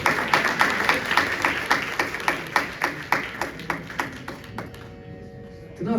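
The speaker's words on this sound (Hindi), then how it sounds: "मेरे ख्याल से इन गीतकारों के लिए जोरदार तालियां तो बजनी चाहिए ना" Audience at a live tribute concert of Indian classical music claps for the lyricists, a close, loud round of rhythmic, evenly spaced claps that gradually fades out toward the end.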